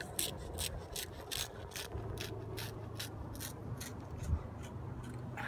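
A tiny knife cuts with a rhythmic series of short scraping, rasping strokes, about a dozen in quick succession, close and fairly quiet over outdoor wind noise.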